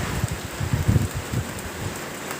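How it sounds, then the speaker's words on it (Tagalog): Heavy rain from Typhoon Pepito pattering hard on a surface nearby, a dense continuous downpour with gusty wind rumble underneath. "Hanggang dito na lang ang ulan na yan."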